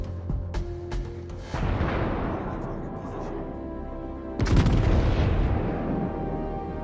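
Battleship main guns firing in World of Warships, two heavy booming salvos with long rumbling tails, loud and close, followed by impact noise, with a player's voice talking over the action.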